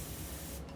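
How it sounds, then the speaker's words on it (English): A continuous spray bottle used for blending acrylic paint lets out a brief, steady hissing mist at close range, cutting off abruptly near the end. "continuous spray bottle"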